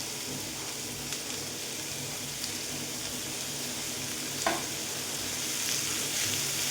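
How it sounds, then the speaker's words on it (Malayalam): Chopped garlic and curry leaves sauté in oil for a mackerel fry masala, a constant close sizzle with occasional soft stirring clicks and a slight swell toward the end, no voices. "ഇതൊന്ന് നമുക്ക് വഴറ്റിയെടുക്കാം വാട്ടിയെടുക്കാം"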